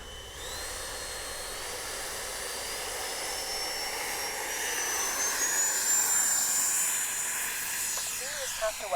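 A Fly Fans 70mm EDF RC jet modeled on the JAS-39 Gripen flies past with a steady, loud ducted-fan whine and hiss that rises and swells as it nears, with no talking.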